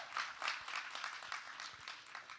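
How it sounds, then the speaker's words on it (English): Faint, steady applause from a company gathering audience, a soft wash of many hands clapping for about two seconds without talk. "a round of applause for those 4 individuals"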